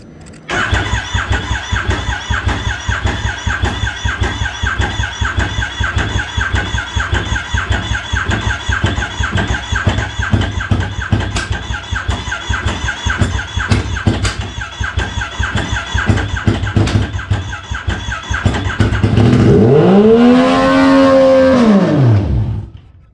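An 850cc go-kart engine, part of a coin-operated ride, runs loud and steady at close range, then surges to full throttle near the end with a rising, falling rev sweep.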